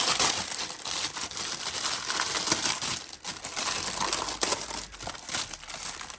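Continuous crinkling and rustling of plastic packaging from a Hachette Partworks RMS Titanic model kit being handled close up, with brief pauses and no talking.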